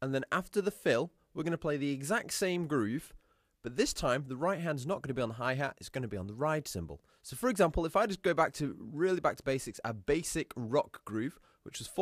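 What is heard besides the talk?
No everyday noises stand out.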